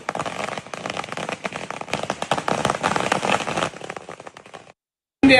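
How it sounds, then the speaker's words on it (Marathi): A string of firecrackers set off by celebrating political party workers outside a bungalow bursts in a dense, rapid crackle for several seconds, then stops abruptly. "भाजप कार्यकर्त्यांनी राणेंच्या बंगल्यासमोर फटाके वाजवत जल्लोष साजरा केला"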